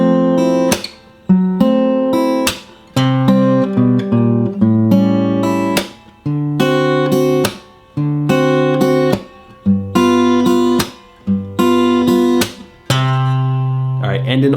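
Guitar playing the second verse line of a song, with choppy, percussive chord strums separated by brief pauses, moving through a bluesy progression, loud and close with no talking.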